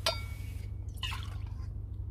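A 12-year-old single malt Scotch whisky poured into a cup outdoors at a camp, with a brief trickle and a few drips against a steady low rumble.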